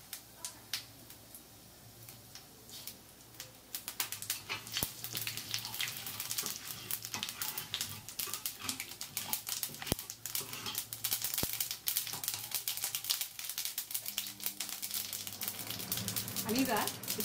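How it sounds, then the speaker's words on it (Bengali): Dry red chilli, cumin and black mustard seeds sizzle in hot oil left from frying fish, giving a steady crackling hiss with scattered sharp pops that runs throughout. "আমি শুকনো লঙ্কা জিরেটা দিয়ে দিলাম, কালো সর্ষেটাও দিয়ে দিলাম।"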